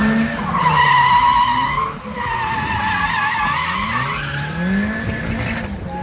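A car drifting at an end-of-season street drift event, its tires squealing in long, loud, wavering screeches over a steady engine roar, with one brief break partway through and no talking.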